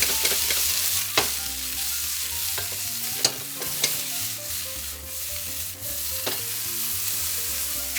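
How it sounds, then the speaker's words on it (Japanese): Sliced onions and mushrooms stir-frying in rendered chicken fat, a steady close sizzle broken by several sharp scrapes and knocks of a utensil against the pan, with no talk. "そうしたらそのまま鶏から出た油で玉ねぎとキノコを炒めていく。"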